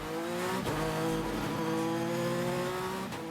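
Sébastien Loeb's race car bounces off its rev limiter on the 2013 Pikes Peak hill climb, a loud, close, sustained engine howl with brief dips at gear changes.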